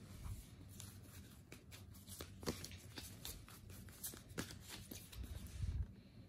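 Tarot cards are shuffled close by in a soft run of quick riffling flicks and slides, quiet and continuous with a few heavier bumps near the end, no talking.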